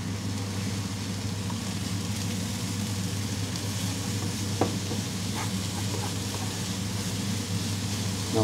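Onions fry in a pan, sizzling steadily and continuously while an occasional scrape or clink from stirring cuts through, under a low steady background hum.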